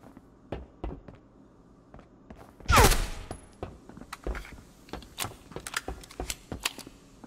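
Gunfire in the Marauders game arrives as scattered sharp shots, with one loud burst partway through and more quick cracks after it. A whooshing sweep sits under the burst, and the whole passage is fairly close.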